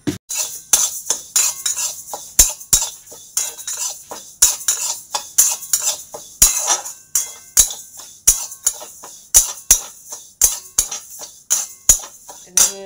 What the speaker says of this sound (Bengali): তো তার জন্য আগে মুগ ডালটাকে ভেজে নিচ্ছি, তারপরে ধোবো।